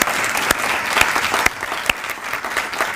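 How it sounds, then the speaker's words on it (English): A hall audience at a university professorial inauguration claps in a full, sustained round of applause, with a few sharper individual claps standing out near the front. "another round of applause for Professor"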